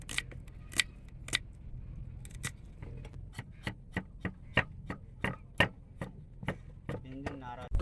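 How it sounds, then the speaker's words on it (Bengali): An onion is chopped with a knife on a boat on the Padma River, sharp single knife strikes on a board in an uneven rhythm, close and clear against a quiet background. "সর্বপ্রথমে পেঁয়াজটা কেটে নিচ্ছি"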